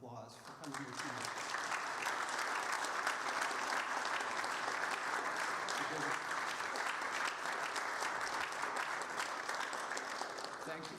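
Sustained audience applause in a lecture hall honoring World War II veterans, a full, even roar of many hands lasting around ten seconds, with brief speech at the start and a voice fading in near the end.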